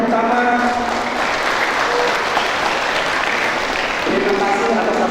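Loud, sustained audience applause fills a Ramadan gathering of the BPRS Amanah Ummah bank in 2025, dense clapping throughout with a voice faintly heard over it.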